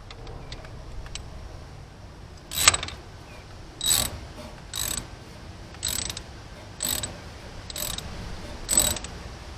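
A socket ratchet turns while working on a dipstick tube, giving short bursts of clicking repeated six times at a steady pace, close and fairly clear over a quiet background.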